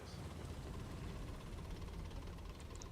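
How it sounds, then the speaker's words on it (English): A tank engine runs nearby in a World War II tank video game, a steady, continuous low rumble with mechanical clatter throughout, fairly loud and unbroken. "Let's just listen to that engine that's near us."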